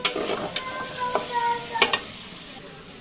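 Chopped ingredients fry in oil as they turn brown, a continuous sizzle broken by a few sharp clicks of a spoon stirring and scraping the pan, with no voices.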